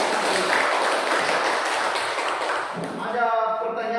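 Classroom applause after a student group presentation, steady clapping for about three seconds before a voice begins speaking over the fading claps.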